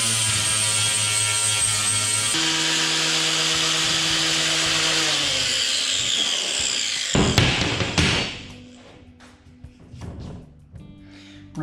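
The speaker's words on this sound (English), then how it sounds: "We'll just get a flapper blade now and we'll give this a bit of a clean up" An angle grinder fitted with a flap disc cleans up metal on a vehicle build, its steady high whine running loud and continuous for several seconds before the tool spins down and stops.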